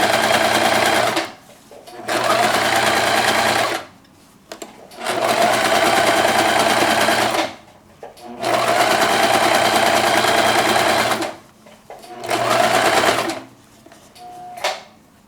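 A sewing machine stitches down a fabric strip on a quilted mug cozy in four loud, close bursts of steady motor whirring, separated by short pauses with light handling clicks.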